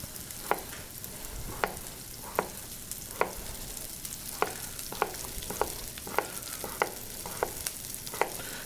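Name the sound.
sliced potatoes frying in butter in a pan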